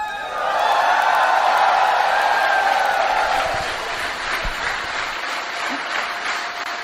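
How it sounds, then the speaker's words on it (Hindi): An audience applauds loudly and steadily for several seconds, the clapping thinning out toward the end. "तालियां बजाएं।"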